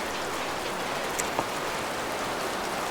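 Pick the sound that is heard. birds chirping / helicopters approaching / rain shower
rain shower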